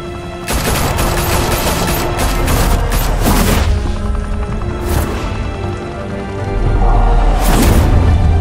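Sustained gunfire from Batman: The Telltale Series, dense rapid bursts of shots rolling continuously with sharp cracks standing out, loud and close throughout, with no talking.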